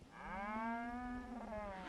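A cow gives one long, drawn-out moo that is close and clear, bending slightly in pitch before it trails off, as a cow and calf are herded.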